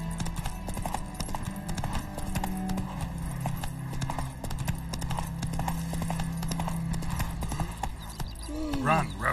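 Roach, a horse in the video game The Witcher, gallops in a steady clip-clop of hooves that runs the whole way under game music and ambient sound, with voices talking over it.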